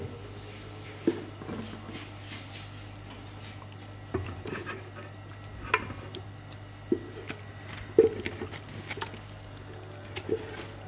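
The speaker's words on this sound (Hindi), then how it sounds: "अब इस पे चिकन की तय सालन जो हमने बना के रखा हुआ था वो डालें।" Prepared chicken curry is spooned onto a layer of biryani, giving soft wet squishes and drips at irregular intervals, close and fairly quiet over a steady low hum.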